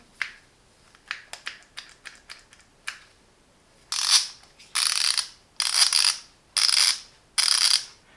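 Ratchet clicking from an ETOOLAB TW230N torque wrench with a 72-tooth mechanism: a few scattered light ticks, then five dense bursts of rapid fine clicks, close and crisp, with no one talking.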